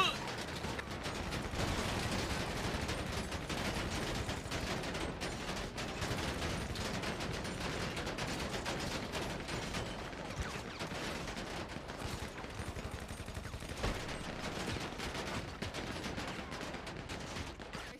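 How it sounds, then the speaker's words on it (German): Gunfire in a GTA V roleplay shootout crackles as rapid, dense bursts of shots throughout, fairly faint and continuous, mixed with background talk from players. "Die schießen von überall so weit hinten."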